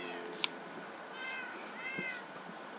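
A pet cat meows indoors, a couple of drawn-out, moderately faint meows with a brief sharp click before them and quiet room noise around them.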